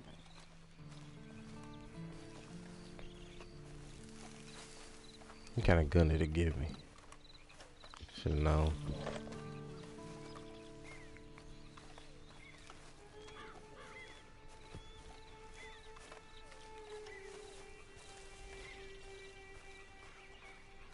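Horse hooves clip-clopping in the video game Red Dead Redemption 2, with two short loud bursts of hoof sounds over a quiet ambient game background and someone talking.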